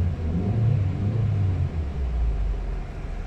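A 1998 Toyota Corolla engine idles after a water pump bypass hose repair, warmed to normal operating temperature; a steady, low rumble holds close and even throughout with no voices.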